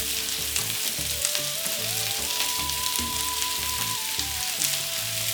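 Chicken kababs fry in hot oil in a pan for Peshawari street-style kabab karahi, a loud, dense, continuous sizzle with crackling spatter, close up, with no voices.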